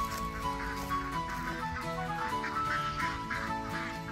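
A flock of ducks quacks steadily and continuously nearby on a farm, a dense overlapping chatter of calls with no talking over it.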